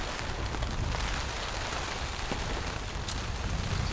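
Heavy rain drums steadily on a tarp over a tent pitched on a mountain in a storm, with constant wind roar filling the whole clip and no talk.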